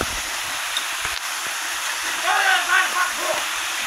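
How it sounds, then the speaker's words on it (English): A creekside waterfall pours in a steady, loud broadband rush close by, continuous throughout, with a voice speaking briefly over it near the end. "Look at that waterfall."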